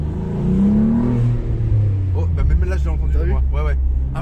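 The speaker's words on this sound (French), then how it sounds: "T'entends l'admission juste en bas de la porte" Renault Clio V6 engine with its air intake just below the door, a steady low drone rising and falling in pitch as it revs, with people talking over it in the second half.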